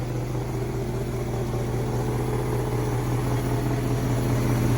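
A rebuilt DeSoto 330 Hemi V8 idles steadily at close range, a continuous low droning hum with an even tone and no breaks.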